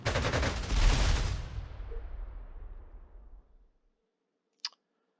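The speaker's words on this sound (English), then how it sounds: "we're going to have the dive bomber relocate here. And I'll just strafe this" A dive bomber strafes in the WWII strategy game Panzer Corps 2: a loud, dense burst of rapid gunfire that fades out over about three seconds into silence, followed by a single sharp click.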